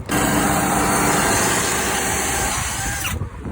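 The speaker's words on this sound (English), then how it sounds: "So now you're just drilling through the holes." A power drill whines steadily at close range for several seconds while drilling through holes to mount a center console on a skiff, then cuts out near the end.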